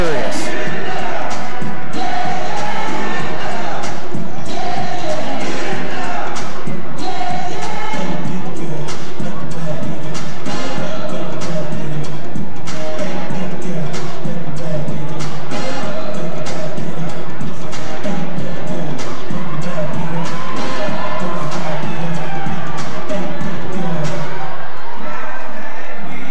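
The crowd at a fourth-quarter basketball game at Ridgeline roars loudly and without a break, with ball bounces and court noises mixed into the din throughout.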